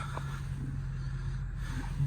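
A 2003 Jaguar XJ6 3.0 V6 petrol engine idles with a low, steady, quiet hum beneath a constant whirring heater fan that is louder than the engine, with no talking.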